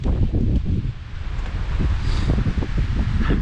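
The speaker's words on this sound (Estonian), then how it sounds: "Isegi mu GoPro kõigub sellest tuulest." Strong wind roars across a microphone on a ski slope at Tahko, a dense, continuous buffeting rumble with gusty surges, loud and close, and no talk.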